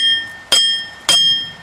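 Hammer blows on a stuck part while the four-wheel drive is being taken out of a truck: three sharp, loud metallic strikes about half a second apart, each with a bright ringing tail.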